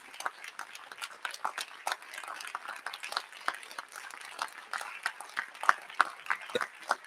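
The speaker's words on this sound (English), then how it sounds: "Give the Rev a round of applause" An audience applauding at a keynote event, dense scattered hand claps at moderate level, sustained throughout and slightly distant.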